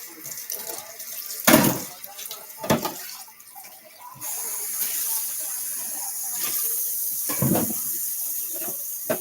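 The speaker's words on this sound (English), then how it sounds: "I'm trying to get it hot so I can rinse off these pieces that I shredded the cheese with." Water from a kitchen sink tap runs in a steady hiss for the second half, after bursts of clattering and handling noise near the start.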